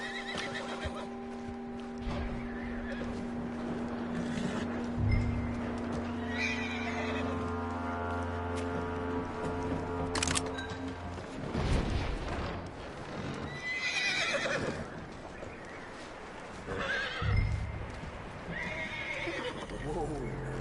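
A horse in the video game Red Dead Redemption 2 neighs and whinnies and its hooves clip-clop on the ground, heard over in-game music and ambience while people talk throughout.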